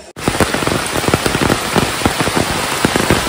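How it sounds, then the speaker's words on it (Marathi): Heavy rain pours steadily in a Konkan village, a dense continuous hiss with many close drops spattering on surfaces, loud and unbroken throughout with no talking. "पाऊस आलेला आहे, छत्री आहे पण आपण अडकलेला आहे कारण जोरात आलेला आहे पाऊस."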